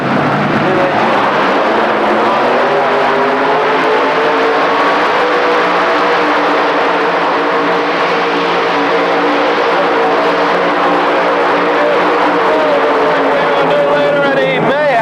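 A 7,000-pound modified tractor at the 1985 Indy Super Pull roars at full power, a loud, sustained engine blare with layered harmonics that holds for the whole run without pause.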